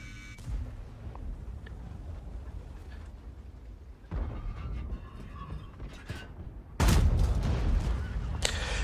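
Heavy tank cannon shots from a VK 100.01 P in World of Tanks, with loud booming bursts near 4 and 7 seconds over a steady rumbling battle background, including one especially powerful blast toward the end.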